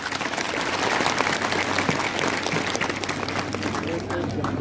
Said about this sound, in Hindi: मैं आप सबसे गुजारिश करूंगा कि डायरेक्टर साहब के लिए जोरदार तालियां हो जाए